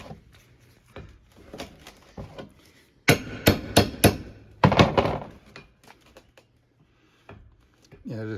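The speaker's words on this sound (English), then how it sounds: "we just elected just to chop it off with a sharp chisel, bang it off so we get it out" A sharp chisel struck by a hammer to chop off a grease fitting on a 1999 Chevrolet Silverado front drive shaft U-joint: light taps, then two bursts of loud close metallic bangs, with quieter knocks and someone speaking briefly.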